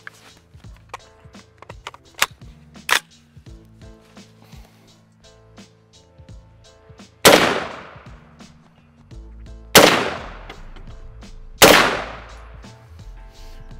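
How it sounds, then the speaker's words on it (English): A Daniel Defense AR10 .308 rifle, fired one-handed outdoors, booms three times about two seconds apart, each shot loud and close with a ringing decay, after some faint clicks and clanks of handling. "now let's see how the Daniel Defense AR10 stacks up to the SCAR with recoil management"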